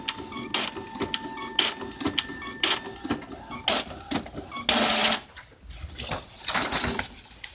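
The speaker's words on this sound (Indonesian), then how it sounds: "dan kertas tertarik sempurna" An Epson L series inkjet printer feeds and pulls paper through, giving a quiet, close run of rhythmic mechanical clicks, ratchet-like ticks and short whirring bursts, ending in a brief louder grinding pass.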